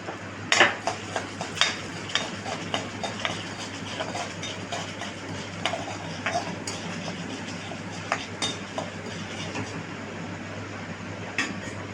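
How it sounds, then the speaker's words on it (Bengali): Urad dal and black mustard seeds frying lightly in a pan for a South Indian chutney, heard as scattered sharp clinks and knocks of a utensil against the pan over a low, steady background hum. "চাটনির মধ্যে আমি দিয়ে দেবো বিউলির ডাল, হালকা একটু ভেজে নেবো এটাকে।"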